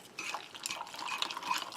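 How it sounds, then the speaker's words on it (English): Hot water poured into a mug of instant soup from a Spanish Army ration pack, a steady close trickling splash lasting under two seconds with no talking. "We'll just add some hot water,"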